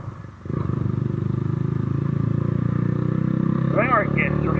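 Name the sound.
motorbike engine riding at speed in third gear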